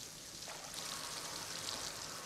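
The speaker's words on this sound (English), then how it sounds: "It's a waterfall!" A cartoon waterfall gives a steady, bright rushing hiss of falling water that swells slightly and continues without a break, with no voices over it.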